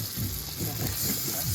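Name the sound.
meat and onions sizzling while being stirred in a pan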